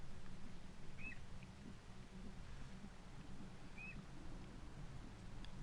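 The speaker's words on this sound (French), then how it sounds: "C'est un oiseau ça." A bird in a video game gives two brief, high chirps a few seconds apart, faint against a low, quiet background hum.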